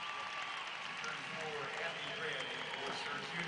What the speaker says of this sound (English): As Gabby Cooper leaves to a standing ovation from the Syracuse crowd.